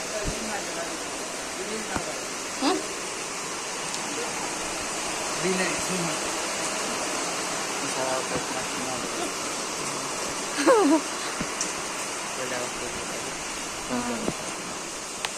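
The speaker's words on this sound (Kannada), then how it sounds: "ಮಳೆ ಬರ್ತಾ ಇದೆ" Heavy rain falls steadily, making a dense continuous hiss with occasional faint knocks and background sounds.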